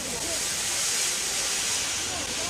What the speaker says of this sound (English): He blew his whistle and wheezed lots of steam.